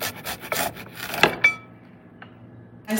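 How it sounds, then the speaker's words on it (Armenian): Garlic being grated for a simple salad, a run of quick rasping scrapes against a grater in the first half, then a couple of isolated scrapes and a near-silent stretch, close and clear with no talking. "Հա, սխտորն ենք քերում"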